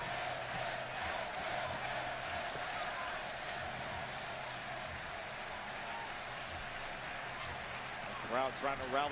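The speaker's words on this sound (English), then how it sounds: "Crowd trying to rally support for Alexa." A wrestling arena crowd at WWE SmackDown keeps up a continuous, rumbling roar of chanting and cheers under a commentator's voice, with a few sharper shouts rising near the end.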